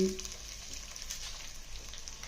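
Cut potatoes are dropped into oil where ginger and garlic are already frying, and a steady, close sizzle holds throughout with no one talking.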